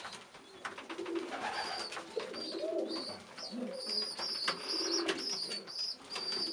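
Pigeons feeding their chicks give soft, low coos close by, mixed with higher chirps and peeps that are steady throughout.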